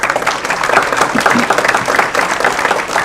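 Audience at a county school board meeting applauding, a loud, busy burst of clapping that runs steadily for about three seconds.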